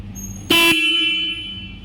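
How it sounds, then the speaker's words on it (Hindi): A Jawa 42 Bobber motorcycle's single horn sounds once, a loud steady blare lasting about three quarters of a second before fading into a lingering ring, close by with no talk. "काफ़ी लाउड है सिंगल हॉर्न भी।"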